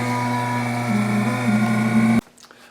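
A vacuum pump runs steadily on the air conditioning system of a 1979 Li'l Red Express, a loud constant mechanical drone that cuts off abruptly near the end, leaving quiet room noise.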